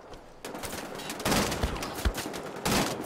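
A rapid-fire gun in Wolfenstein: The Old Blood rattles off loud, close bursts of shots in quick succession, with brief gaps between volleys.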